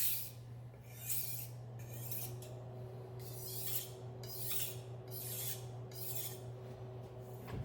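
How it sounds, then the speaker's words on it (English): Kitchen knife drawn across a sharpening stone to hone a new edge, a steady series of soft, rhythmic rasping strokes about one per second, faint and close over a low constant hum, with no talking. "That's a little bit of the knife that's coming off as you're honing a new edge."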